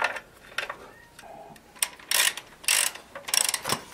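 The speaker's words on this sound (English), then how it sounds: "I have to get the wrench way down in there." A wrench ratchets on a bolt deep inside a Honda Hobbit PA50 II moped engine, giving sharp clicking bursts and metallic rasps in uneven spurts, close by, with brief pauses between turns.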